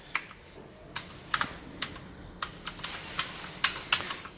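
Typing on a Leopold FC660M mechanical keyboard with two-tone white double-shot PBT keycaps: close, crisp clacks in an irregular rhythm, about a dozen keystrokes at moderate volume with no talk.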